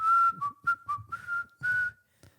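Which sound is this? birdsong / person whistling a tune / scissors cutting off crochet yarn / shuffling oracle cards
person whistling a tune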